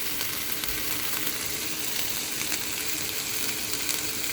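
Peppers fry with chicken in a pan, giving a continuous, even sizzle with soft crackling, close and steady with no talking.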